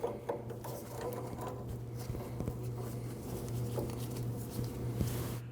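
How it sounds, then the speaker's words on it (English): Ratchet loosening a 24mm nut on the pitman arm of a 2012-2021 Nissan NV2500: a steady run of fast, close mechanical clicks over a low constant hum, with no voices. "Now we can remove our 24mm nut and install our puller."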